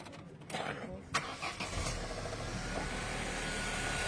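A 2000 Opel Astra engine cranks briefly, catches and settles into a steady idle nearby, with people talking over it.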